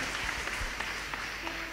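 A church congregation claps in a brief, dense burst of applause, with faint voices mixed in underneath.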